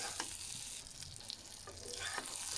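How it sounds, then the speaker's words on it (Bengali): Beef being sautéed with spices sizzles and crackles steadily in a hot pan, with occasional stirring scrapes, close and fairly quiet, no voices. "মাংসের সাথে ভালোভাবে কষিয়ে কষিয়ে এখন রান্না করব।"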